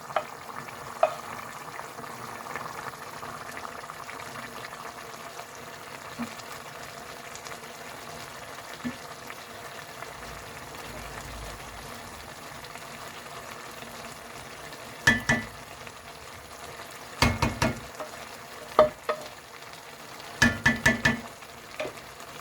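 Fried carrots and raisins cook with rice in a pot, giving a soft, steady low sizzle and bubbling, broken near the end by a few louder clatters and stirring knocks.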